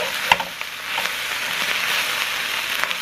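Skillet bibimbap being stirred and mixed in a very hot skillet, a loud continuous sizzle with scraping and clacking from the mixing throughout.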